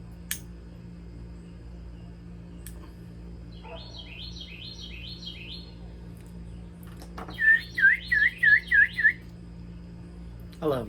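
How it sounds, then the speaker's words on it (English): Small birds chirp and trill outdoors near a home workbench, with one short burst of song followed later by a louder, rhythmic series of about six quick whistled notes over a quiet background. "I love listening to the birds."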